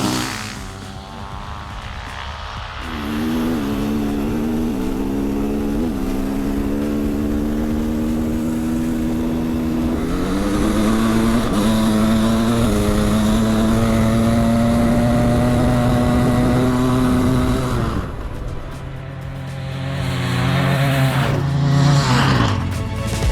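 Megalodon 700 two-stroke racing a KTM 500 four-stroke enduro bike, loud revving engines climbing through gear changes, pitch rising and dropping in steps, then passing and fading before another bike approaches.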